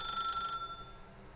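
Telephone ringing in The Stanley Parable video game, a single short electronic bell burst that cuts off abruptly, leaving a quiet room tone.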